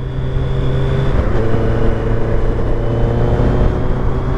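A 2021 Suzuki Hayabusa motorcycle engine running steadily while being ridden, a loud continuous drone with a constant hum and no voices over it.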